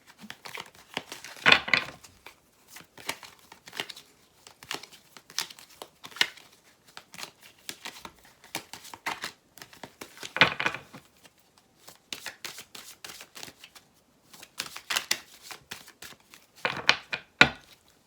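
A deck of message cards is shuffled in irregular bursts of crisp riffling and sliding, with louder flurries at intervals and quieter shuffling between them, with no talk.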